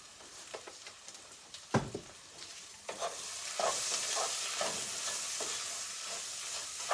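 Masala frying in a pan for prawn biryani is stirred with a spoon, scraping and clinking in irregular strokes over a continuous crackling sizzle that grows louder partway through.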